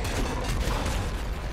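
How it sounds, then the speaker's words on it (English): A big explosion in the top-down shooter Nuclear Throne, heard as a dense, sustained roar of blast noise with rumbling low end that fills the whole moment at steady loudness, with no voices over it. "That was a big-ass explosion."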